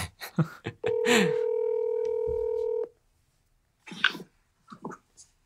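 A telephone line connecting a call gives a single steady electronic tone lasting about two seconds, loud and clear, with people talking briefly before and after it.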